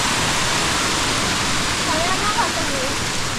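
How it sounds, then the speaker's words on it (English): Erawan Falls in Thailand, a broad, spread-out cascade between its upper levels, pours as a steady, close, full hiss of falling water, with a faint voice briefly underneath. "Just a beautiful waterfall."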